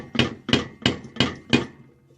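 Five evenly spaced, sharp knocks, close and fairly loud, imitating a broken compressor spring striking the casing inside a refrigerator.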